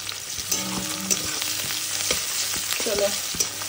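Mutton fries in a pan with a constant bright sizzle, broken by repeated clattering stirs and scrapes of a spoon against the metal, close up and with no one talking.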